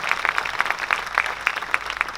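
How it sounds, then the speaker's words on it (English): Scattered applause for a performer at a Malay cultural festival, a sparse crowd clapping steadily and somewhat distant throughout. "Can we give Mr. Alfala a round of applause?"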